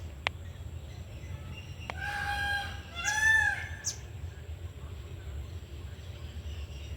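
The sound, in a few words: peacock calling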